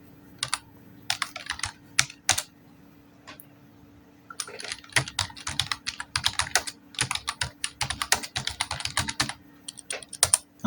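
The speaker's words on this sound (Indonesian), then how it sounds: "Kita ketikkan judulnya." Title being typed on a computer keyboard: rapid irregular key clicks in bursts, a short flurry then a pause before a longer steady run of close, crisp keystrokes, with no talking.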